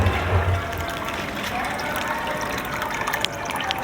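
Water running through a home hydroponic growing system, a steady broadband wash and trickle that continues unbroken throughout at moderate level, with a faint low hum underneath.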